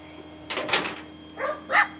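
Dog giving two or three short, sharp barks and yips close by over a low steady hum, next to a broken-down truck that won't start, with no talking.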